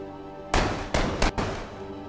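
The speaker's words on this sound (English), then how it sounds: "There's gunshots everywhere." Four sharp gunshot bursts in the video game H1Z1, in quick, uneven succession, loud and booming over a faint steady hum.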